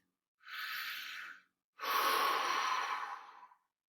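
Two audible breaths during a marching band posture drill, a shorter one followed by a longer, louder exhale, close and clear with no talking over them.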